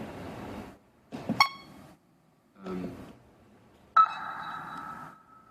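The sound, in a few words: synthesized ping sound with reverb and envelope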